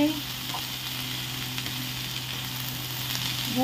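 Chickpeas frying in a pan with sweet corn and vegetables, a steady close sizzle with light stirring underneath and no voices.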